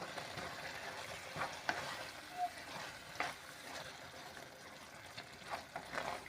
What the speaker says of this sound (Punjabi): ਹੁਣ ਆਪਾਂ ਜੀ ਇਹਦੇ ਵਿੱਚ ਪਾ ਦਾਂਗੇ ਪਨੀਰ ਹਾਂਜੀ ਪਨੀਰ ਨੂੰ ਵੀ ਸਾਰੇ ਨੂੰ ਚੰਗੀ ਤਰ੍ਹਾਂ ਮਿਕਸ ਕਰ ਦਾਂਗੇ